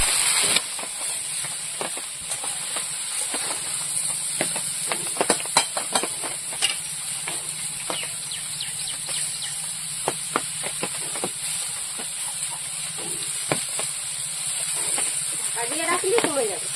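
Taro leaves go into a hot pan for a dish with hilsa fish head, and a continuous loud hiss of steam and sizzle follows, scattered with small crackles and pops, while voices murmur faintly.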